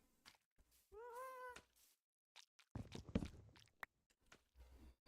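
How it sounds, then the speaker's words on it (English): A pet cat indoors in a bedroom gives one clear, drawn-out meow, followed by soft clicks, taps and small thumps of movement, with quiet gaps between. "There was still a kitty cat in my room."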